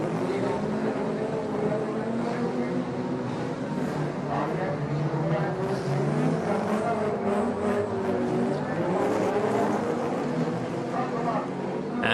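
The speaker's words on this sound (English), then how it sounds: "For the standards, half a lap behind our race leader, which is 99, Dennis Sinterbin." Stock cars in a standard-class autocross race on a dirt track at Blauwhuis keep up a steady, busy engine drone throughout, with a race commentator talking over it.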